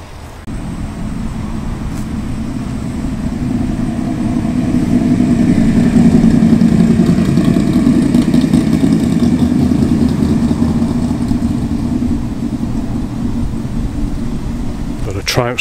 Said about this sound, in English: its 3-litre V8 burbling away to itself as it gently comes up the driveway here.